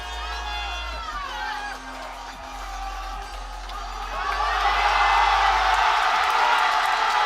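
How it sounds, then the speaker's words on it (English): Crowd at a powerlifting championship in Sheffield cheering a 400 kilo deadlift, a roaring swell of shouts and whoops that builds louder in the second half, with a commentator talking over it. "The crowd on their feet for over a 400 kilo deadlift."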